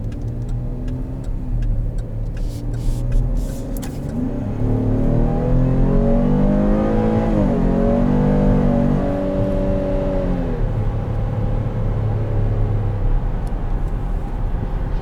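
A 2020 Chevrolet Traverse SUV engine revs up and holds a rising, throaty drone under steady road noise, then settles back down as the vehicle cruises.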